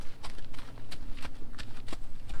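Quiet hooves clop on the ground at a slow walking pace, a few soft, irregular steps close by.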